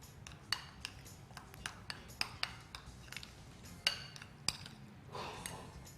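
A spoon clinks against a bowl while paneer is mixed into a mashed potato dish, a series of sharp irregular metallic taps and scrapes, fairly close and quiet, with no talking.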